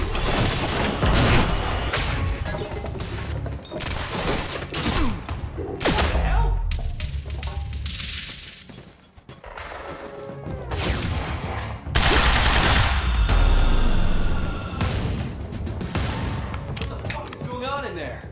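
A shootout in an underground parking garage in Quantum Break, with dense bursts of gunfire and sharp shots cracking loudly in clusters, a brief lull midway, and voices shouting in between.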